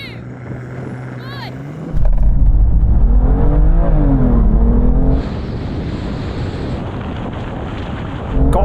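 A BMW M2 and M240i accelerate hard in a video-game drag race, with engines revving and rising in pitch through gear changes. The roar stays loud and steady, with a brief rush of wind noise.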